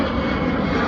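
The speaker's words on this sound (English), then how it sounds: "I think you can see from the airplane flying over" A fixed-wing airplane passes overhead near the airport in Charlotte, a loud, steady broadband engine roar filling the short stretch without talk.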